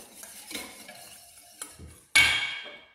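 Oil and lemon juice stirred together for a cauliflower tabbouleh vinaigrette, soft scraping and light clinks of a utensil against a bowl, ending in a louder sharp clatter.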